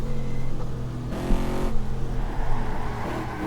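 Small block Corvette V8 racing in GTR2, a loud steady engine drone with rich harmonics that shifts pitch as the car changes gear and accelerates.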